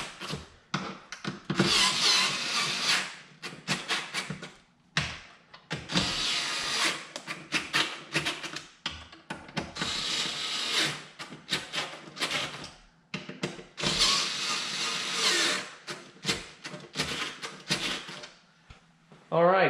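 Bolts being tightened with a power tool on a carbon fiber ZR1-style wing on a C7 Corvette, in four loud whirring bursts of a few seconds each, with short pauses between them, close up and with no talk.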